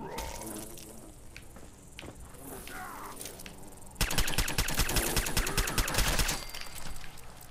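Gunfire in the video game Fallout 4: scattered, muffled game sounds first, then a dense burst of rapid automatic shots that runs for about two seconds before it stops.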